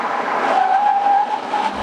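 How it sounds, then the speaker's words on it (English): A Tesla Model S brakes hard from 60 mph to a stop on a test track, its tyres giving a sustained squeal and skidding hiss, close and loud, with no talk. "And now for our 60 to zero braking test."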